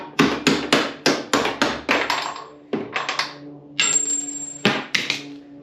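A car door's hinge pins are hammered out in a rapid series of sharp metallic blows, close and loud, in irregular bursts with short pauses between strikes.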